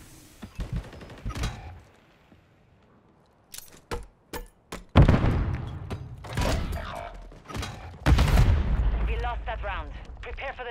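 A shooter video game gives scattered gunshots and heavier impact bursts, loud and close, amid clatter and background game noise, with a player talking over parts of it.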